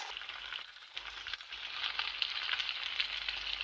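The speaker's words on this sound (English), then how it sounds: "I'll be adding the white cream and I'll be frying it just for 2 to 3 minutes." Vegetable pasta in white cream sauce sizzles quietly in a pan, a soft continuous frying hiss with faint crackles throughout.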